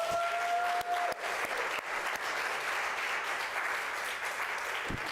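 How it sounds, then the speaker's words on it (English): Audience applauds newly installed board members at an appreciation and installation ceremony, steady clapping from a crowd filling the room for about five seconds, with a brief tone fading early on. "Congratulations. Let us give them an applause."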